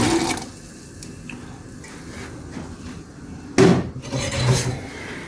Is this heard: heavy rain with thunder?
no